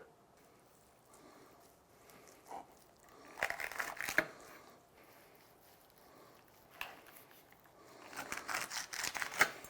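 A knife cuts through smoked wagyu beef ribs in two bursts of crisp slicing and crunching, the second one longer and louder, with quiet gaps between them and no talk.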